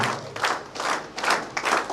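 Clapping from a gathering honoring police personnel, rhythmic group claps in distinct pulses about every half second, close and fairly loud, with no voices over it.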